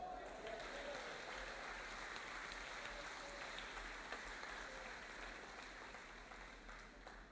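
A church congregation applauds in a steady, dense wash of clapping that holds evenly throughout, with a faint voice threaded underneath.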